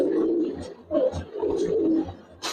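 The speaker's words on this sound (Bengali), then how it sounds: "এই যে কবুতর দেখেন, এটা একটা কবুতর।" Silver and Beji pigeons in a coop give repeated low, throaty coos close by, in rhythmic pulses with brief rustles between.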